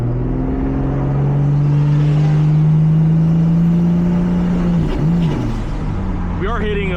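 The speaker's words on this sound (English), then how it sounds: "We are hitting a bit of fuel cut here, so the boost controller is turned off." Tuned turbocharged automatic Toyota Supra MKIV engine held at high steady revs with its boost controller off, bouncing off the fuel cut in a stuttering dip near the end; loud and close inside the car.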